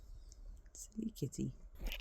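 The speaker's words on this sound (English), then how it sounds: "Sorry if you hear purring down the mic right now." A cat meows several times in short, close bursts, with faint rustling and breathy noise around it.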